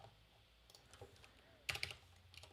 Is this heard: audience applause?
no